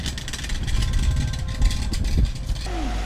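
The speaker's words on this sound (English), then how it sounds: "Cars are noisy." A car engine hums and rises as a vehicle passes close by, then fades, with a brief higher whine near the end.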